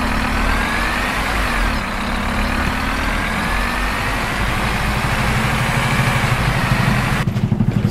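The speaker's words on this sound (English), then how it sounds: "if you rev it outside when it's in drive," A Scania CityWide bus engine in the OMSI 2 simulator revs while in drive, heard from outside as a loud, steady low diesel roar that swells with a faint rising whine and ends in a brief rattle.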